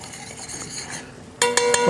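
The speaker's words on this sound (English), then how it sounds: "you see the shallots are just starting to cook up a little bit" Shallots cook in a pan for risotto with a low sizzle, then a louder clatter of utensil against pan near the end, close by and with no one talking.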